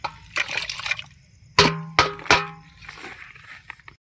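Water is poured into mutton gravy in a home kitchen, giving a close liquid splashing and trickling with a few sharper bursts of pouring and sloshing. It runs for about four seconds.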